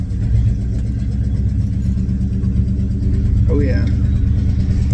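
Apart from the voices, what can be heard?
Chevelle car engine during a test drive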